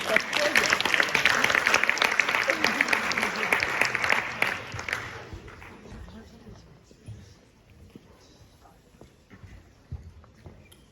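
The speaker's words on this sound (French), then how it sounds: "Un tonnerre d'applaudissements pour Aymeric" An audience at a student eloquence contest applauds a contestant, loud massed clapping for about five seconds that then thins out to scattered, fading claps and room noise.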